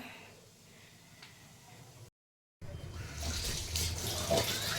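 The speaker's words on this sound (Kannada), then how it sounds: "ಬಾಂಡೆ ತಿಕ್ಕ ಸ್ಟಾರ್ಟ್ ಮಾಡೋಣ" Dishes are scrubbed under a running tap, making a steady close hiss of flowing water that cuts out briefly and then returns louder and brighter, with splashing and rubbing mixed in.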